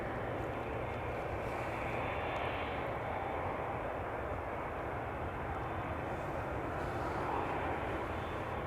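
A Boeing 777-300 with GE90 jet engines spooling up for takeoff on the runway at Amsterdam Schiphol Airport, a steady broad distant roar with a faint high whine holding level throughout.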